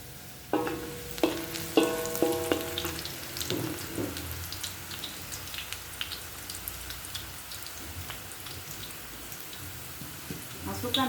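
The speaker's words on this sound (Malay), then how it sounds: "Masukkan bahan yang telah dikisar, tumis hingga naik wangi." Onion and a blended spice paste are stirred and sautéed in hot oil for prawn dum biryani, with a few clanks of a utensil against the pan at first, then a soft steady sizzle.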